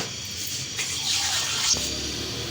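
A glass of water is tipped into a pot while making a summer sherbet, giving a close, continuous rushing pour that swells slightly and then eases, with no voices.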